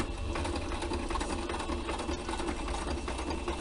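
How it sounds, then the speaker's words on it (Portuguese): Sewing machine stitching fabric for an apron, run at a slow, steady pace with the pedal pressed gently, a continuous close mechanical whirr with no talking. "Então vamos começar a costura. Aperta lá o pedal devagarinho e vem costurando."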